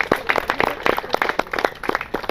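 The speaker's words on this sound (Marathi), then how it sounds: "राजूसाठी एकदा जोरदार टाळ्या वाजवू आपण सर्वजण" An audience at a Kolhapur Church Council school gathering applauds Raju, with moderately loud, irregular individual claps from a modest crowd coming in quick uneven bursts.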